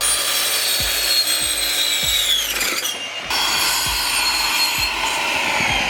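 Rhythmic back-and-forth rasp of a hand saw cutting through a wooden board, strokes repeating steadily and close by, with no talk.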